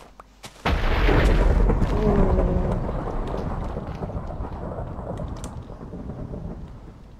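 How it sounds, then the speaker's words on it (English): Thunder from a lightning strike in the video game Chicken Block'd, a sudden loud crack followed by a long, rolling rumble that slowly fades over several seconds. "Oh no, you had lightning."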